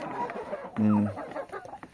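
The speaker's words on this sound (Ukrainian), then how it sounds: "А, півень." A rooster calls out once, loud and close, with hens clucking around it in a busy coop in hard winter frost.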